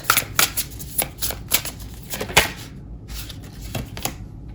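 Tarot cards being shuffled by hand for a card reading, a run of crisp riffling bursts and soft slaps in an irregular rhythm, close and fairly loud with no talking.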